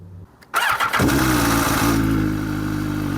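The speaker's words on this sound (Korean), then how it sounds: "그걸 생각을 하면서 시동을 한번 걸어 보겠습니다" A BMW S1000RR motorcycle engine cranks and fires, a brief metallic cam chain rattle for about a second after starting, then settles into a steady idle.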